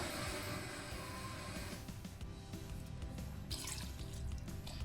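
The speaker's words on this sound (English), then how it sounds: "Alright, so I'm gonna add about 500 ml of water." Water, about 500 ml, poured into a pan of rice for baking, a broad rushing pour that is fuller at first and then eases into a quieter, steady trickle.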